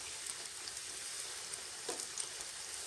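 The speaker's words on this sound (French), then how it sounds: "À chaque fois, je verse l'huile au-dessus pour qu'il se gonfle et qu'il soit plus feuilleté." Hot oil spooned over a Moroccan pastry frying in a pan, a dense, even hiss of sizzling oil with faint crackles and small splashes, steady throughout and heard alone.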